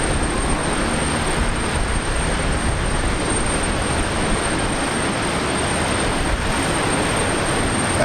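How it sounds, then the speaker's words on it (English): United Boeing 777-200ER airliner coming in to land at Brisbane Airport, a steady broadband jet roar heard from a distance outdoors, even and sustained throughout with a faint high whine above it. "That's United 777-200 ER coming in from San Fran."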